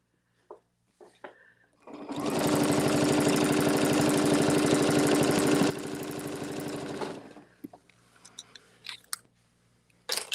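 A sewing machine stitches in the ditch in one loud, steady burst of about five seconds, with a humming whir that starts abruptly and cuts off. Faint small knocks and clicks come before and after, and nobody speaks.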